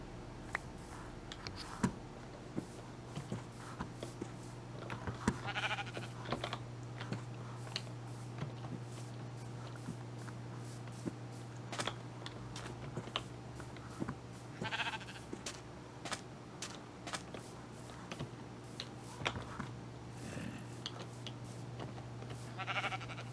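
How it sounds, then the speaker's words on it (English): Sheep bleats from Minecraft come faintly and intermittently, a few short calls spread over a quiet steady background hum with occasional clicks. "Yeah, I only have one sheep."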